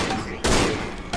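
Gunshots in the horror game Cry of Fear, with a loud sharp blast and a second shorter one following about half a second apart over a noisy background.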